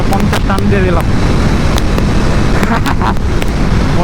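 A 150cc motorcycle accelerates hard along a road at night, its engine note rising beneath heavy, constant wind roar and road noise that stays loud throughout.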